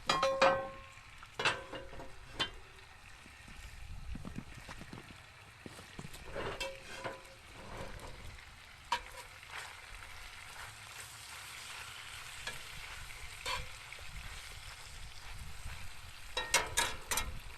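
Goulash quietly simmering in a pot over an outdoor campfire, a soft low bubbling and crackle broken by scattered clinks of metal and utensils.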